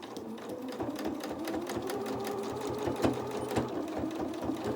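A sewing machine backstitches a doll's dress, running in a steady close whir with rapid needle ticks and brief pauses for reversing direction, alone without talk.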